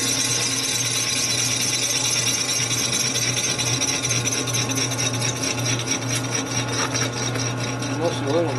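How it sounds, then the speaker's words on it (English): A power tool grinds and cuts away aluminum on a Harley shovelhead cylinder head during a blown head gasket repair, a steady harsh rasping whine close by with a constant motor hum underneath. "we're cutting all that aluminum right there"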